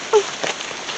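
Rain falls outdoors in a Jamaican setting, a steady hiss of drops with a brief brighter chirp near the start and no talking.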